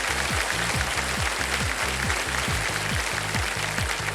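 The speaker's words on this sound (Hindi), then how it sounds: "ताली पहले बज गई।" A studio audience on a televised quiz-show set claps continuously in a dense, even wash of applause over a rhythmic, pulsing musical beat.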